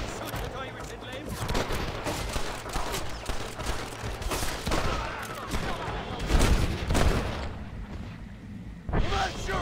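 Gunfire in the Western video game Red Dead Redemption, rapid bursts of rifle and pistol shots with heavy booms near a cliff, under character dialogue and game music.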